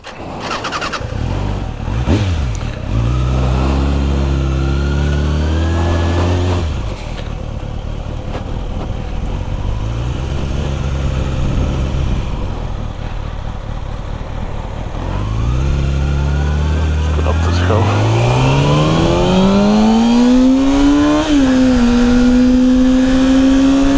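A motorcycle engine revs hard and loud up close, climbing through rising whines, dropping back, then accelerating through gear changes as the bike rides off with a strong, sustained roar.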